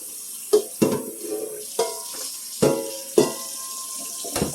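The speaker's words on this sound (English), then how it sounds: "Then rinse it off a little bit." Cooked pasta being rinsed in a kitchen sink, with several sharp splashes and clatters of water and metal against a soft background hiss, irregularly spaced and fairly close.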